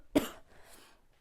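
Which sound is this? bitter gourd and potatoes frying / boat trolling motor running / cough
cough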